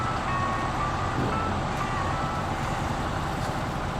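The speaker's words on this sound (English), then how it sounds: "has that gurgly engine sound" A steady, rumbling truck engine in the video game SnowRunner drones continuously with a low gurgling texture, moderately loud and unbroken throughout.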